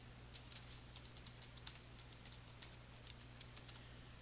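Quiet clicking of keys on a computer keyboard, an irregular run of light taps close by over a faint steady hum, with no voices.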